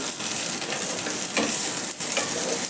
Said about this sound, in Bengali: এবার ঢ্যাঁড়সগুলো ভাজবো।